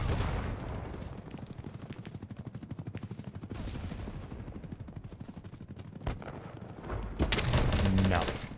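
Rapid automatic gunfire in the shooter game BattleBit, bursts of closely spaced shots pattering on for several seconds, with an explosion-like swell near the end and a player talking over it.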